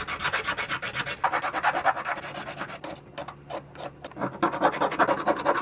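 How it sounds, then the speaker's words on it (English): A hand file rasps steadily across the cut edge of a CPVC/PVC pipe in quick repeated strokes, close and fairly loud with no talking. "Go ahead and clean this up with our file so everything's nice and smooth"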